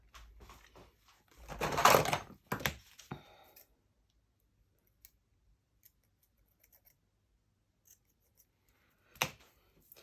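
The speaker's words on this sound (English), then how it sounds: "Actually, I need a pair of scissors." Scissors snip through paper in a short cluster of cuts up close, followed by near silence with faint clicks and one last snip.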